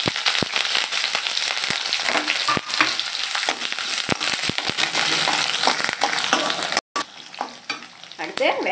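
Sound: curry leaves, onion, chilli and lentils frying in oil

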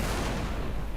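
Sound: tank cannon firing in Total Tank Simulator video game

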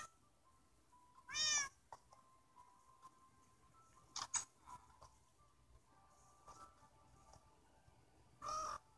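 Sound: cat meowing in the video game Minecraft

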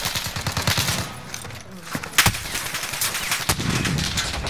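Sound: gunfire in Call of Duty Modern Warfare video game

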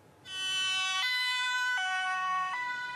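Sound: ambulance siren on way to emergency

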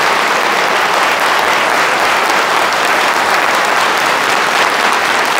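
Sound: audience applause welcoming a speaker

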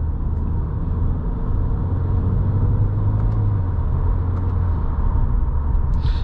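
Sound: 2023 Subaru WRX GT engine driving in Sport Plus mode

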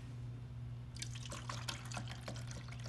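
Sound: pouring 11.5 pH alkaline water into a container

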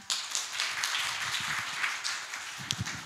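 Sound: audience applause

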